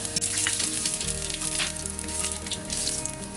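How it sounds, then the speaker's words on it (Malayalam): Whole cinnamon, cloves, cardamom and cumin sizzle in hot oil for a chicken tikka biryani, a loud, continuous, close crackling hiss with no speech over it. "എല്ലാം കൂടി നമുക്ക് ഈ ഓയിൽ ചൂടായിലേക്ക് ഇട്ട് കൊടുക്കാം."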